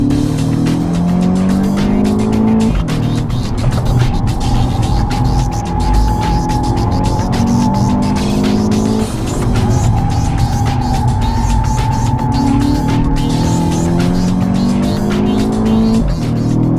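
An Audi TT is driven hard around a race track, its engine droning loudly and rising and falling through gear changes while tires squeal and skid continuously through corners, close and sustained with no talk.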